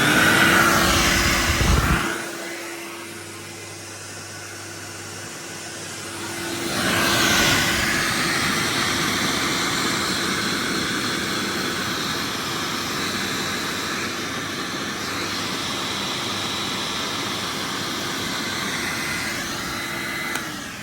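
A refurbished Vortech Force 3 vacuum cleaner whirs loudly, cuts out briefly, then spins back up into a steady, roaring motor drone that carries on for many seconds, close and with no talk.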